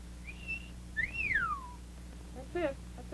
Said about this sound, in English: That's his whistle.